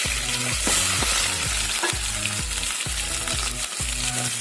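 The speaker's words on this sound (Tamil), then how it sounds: "Add the onion." Onion fries in a hot pan for pumpkin poriyal, sizzling loudly and steadily up close while a utensil stirs and scrapes in a regular rhythm of repeated strokes.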